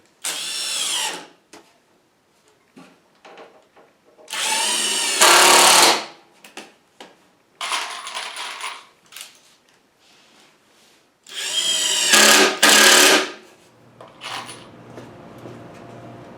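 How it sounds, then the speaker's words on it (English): Impact driver sinking roughly 2.5-inch Torx-head screws into wood in a shop, with several loud, separate bursts of rapid hammering whine spaced by short pauses, close by and free of talk. "Torx head and an impact driver is the way to go."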